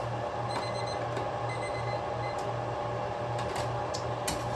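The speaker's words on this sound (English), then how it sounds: "there's the timer going off" A kitchen timer beeps in a steady repeating pattern of short pulses, moderately loud against a low background hum, with no voices over it.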